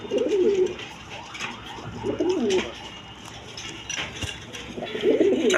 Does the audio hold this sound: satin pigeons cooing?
yes